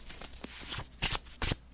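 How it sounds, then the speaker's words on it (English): Tarot cards being shuffled by hand in a few quick riffling bursts, close and crisp, with quieter rustling between them. "So I shuffled for a while"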